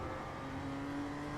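A BMW M2 CS in iRacing at the Ledenon circuit accelerates out of a corner, its engine a faint, steady drone with a slowly rising tone, heard alone without talk.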